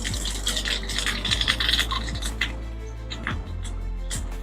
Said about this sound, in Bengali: এবার এই তেলের মধ্যে দিয়ে দেবো 5 ফোড়ন।